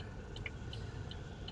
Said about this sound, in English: pardon the fan sound.